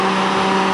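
Steady idle of the diesel engine in a 1992 MCI Liberty coach bus, a constant, loud, close drone with a clear, even hum.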